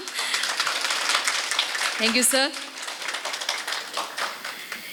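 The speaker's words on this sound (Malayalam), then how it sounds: "അദ്ദേഹത്തിന് സ്നേഹത്തിൻ്റെ ഭാഷയിൽ ഒരു ഗംഭീര കയ്യടി നൽകാം" Crowd applause at a Hidd area unit's 2024-2025 inauguration ceremony, honouring Jayashankar: dense, steady clapping fills the hall from start to finish, with someone briefly speaking over it midway.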